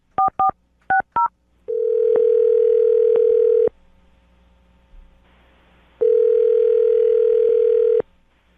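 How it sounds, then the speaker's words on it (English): A telephone being dialed: a quick run of keypad tones, then a steady dial tone, a short pause and a second steady tone, with no talking. "I'm going to dial the phone number right now"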